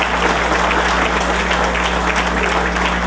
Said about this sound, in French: une salle d'applaudissements pour les trois